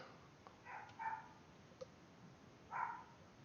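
A dog barks faintly in the background of a room during an online Axis and Allies board game session, giving two or three short, distant barks separated by quiet.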